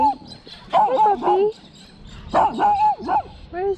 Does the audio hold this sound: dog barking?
yes